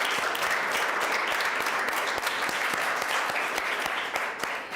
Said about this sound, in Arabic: لبنى وفادي ودنيا عملوا موضوعات ممتازة استحقوا عليها الدرجة النهائية، سقفوا لهم